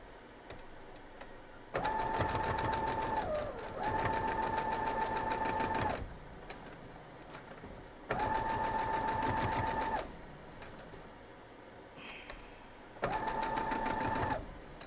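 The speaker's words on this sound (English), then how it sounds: "And now we'll sew it up." A sewing machine stitching a quilt block runs in four bursts of rapid, even whirring, each about two seconds long, with brief quiet pauses between them.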